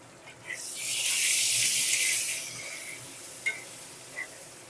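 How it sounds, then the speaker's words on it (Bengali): Potatoes frying in oil with salt and turmeric for a Bengali jackfruit kofta curry, a steady hissing sizzle swelling in the middle and then easing, with a couple of faint clinks near the end and no talk. "আলুটা ভেজে নেবো"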